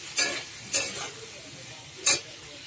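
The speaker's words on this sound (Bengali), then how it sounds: "একটু সামান্য বাটি দিয়ে জল দিয়ে দিচ্ছি" Water splashes into a hot pan of frying paste of ginger ground with green chillies, with three short bursts of sizzling over a quiet kitchen background, no talk.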